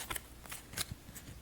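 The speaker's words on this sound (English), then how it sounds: "I'm going to just shuffle these up" Cards for the board game Robinson Crusoe: Adventures on the Cursed Island are shuffled by hand, a few quiet, close riffling bursts in an irregular rhythm, with no talking.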